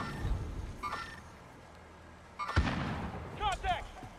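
Gunfire in the video game Call of Duty: Modern Warfare comes as a few sharp, distant-sounding shots and bursts, with voices talking over the action.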